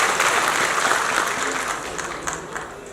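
An audience at a Navbharatiya Shiv Vahatuk Sanghatana and BJP Transport Cell gathering bursts into loud, dense applause that carries steadily throughout, easing slightly toward the end.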